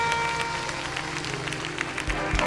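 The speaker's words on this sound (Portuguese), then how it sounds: "Agora, com essas duas mãos levantadas, aplauda o melhor que você puder." Church congregation clapping with hands raised, a brief dense burst of applause with crowd noise and a background tone, ending with a couple of heavy thumps.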